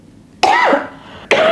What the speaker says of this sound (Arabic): انا كنت بكح